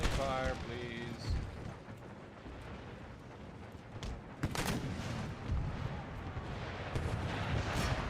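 Artillery and musket gunfire from an Empire: Total War battle with the Darthmod mod, heard as scattered booms and cracks over a steady battle din while a person talks.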